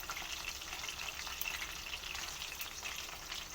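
Chicken pieces for chilli chicken frying in hot oil, a dense, continuous crackling sizzle that stays even and fairly close throughout, with no voices.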